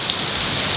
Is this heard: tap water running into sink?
no